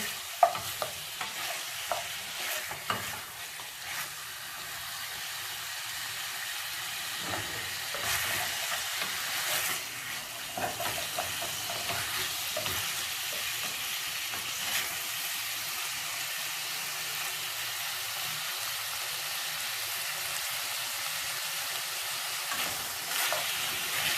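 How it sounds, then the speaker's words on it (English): Beef pieces fry for stew in a pan over medium heat, giving a steady bright sizzle with occasional scraping and stirring, close and continuous throughout. "Continue to fry in medium heat until they are golden brown."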